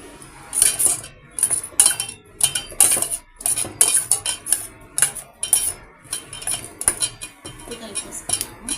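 A metal spoon mixes tamarind rice in a metal vessel, giving repeated bright clinks and scrapes in uneven bursts close to the listener, with brief quiet gaps between strokes.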